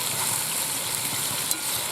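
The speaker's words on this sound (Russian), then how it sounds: "Ух, шкварчит все." Food sizzling and frying in a kazan cauldron outdoors in the countryside, a steady close hiss of hot oil with a small pop near the end.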